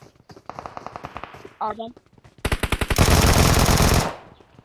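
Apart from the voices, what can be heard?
gunfire in PUBG Mobile video game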